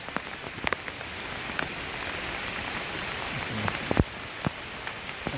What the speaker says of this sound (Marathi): पाऊस पण जोरदार आता चालू झाला.